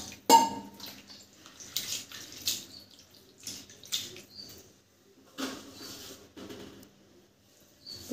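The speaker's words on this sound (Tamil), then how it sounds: "சிறிதளவு தண்ணி சேர்த்துக்கிறோம்." Water splashes and trickles into a pot of dried-fish tamarind curry in short bursts, with clinks of metal cookware between pours, fairly close and moderately loud.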